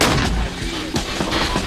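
A Stryker armored vehicle fires its heavy weapon, giving loud, dense booming blasts that fill the clip with sustained low rumble and repeated sharp reports close by.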